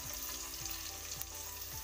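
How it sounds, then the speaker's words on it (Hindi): Vegetables such as potato, tomato and cauliflower being fried in a pan for tahri, a steady close sizzle with occasional soft scrapes of stirring, heard alone with no talking. "इसको हम 2-3 मिनट भून लेंगे"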